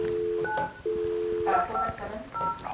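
Telephone keypad tones dialing a number to place a call during a council meeting, a run of short steady dual-tone beeps in irregular rhythm, close and clear, with brief background voices between presses.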